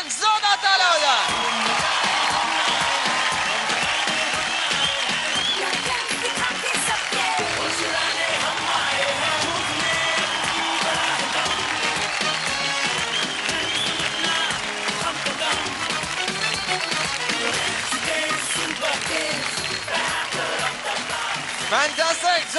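Loud applause and cheering from a studio audience for child dancers on a TV dance show, a sustained dense roar of clapping and whoops with music and voices mixed through it.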